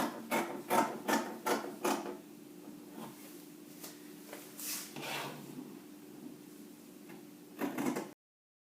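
Scissors cut through gown fabric in a series of crisp, close snipping strokes, several quick ones early, a few more spaced out, then another burst before the sound stops.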